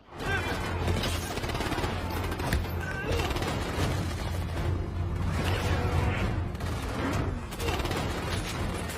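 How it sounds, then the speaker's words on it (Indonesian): Rapid gunfire crackles in repeated bursts amid a loud, chaotic mix, with shouting voices mixed in, during a shootout in the film Fast and Furious 4 (2009). "Dan terjadilah tembak-tembakan di situ."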